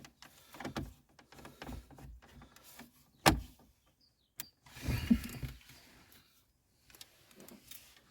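Small screws are driven back in by hand on a car's heater-control panel during a bulb replacement, giving scattered soft creaks, clicks and scrapes, close and quiet, with a few sharp taps and no voice.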